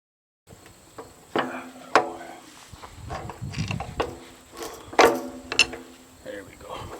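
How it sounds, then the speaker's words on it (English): Ratchet clicks and metal-on-metal clanks from a 3/4 socket wrench turning an 18 mm bolt on a Caterpillar 308E2 excavator, in several sharp bursts with quieter mechanical rattling between them. "I don't have my metric ratchet set or wrench set, so I'm using a 3/4."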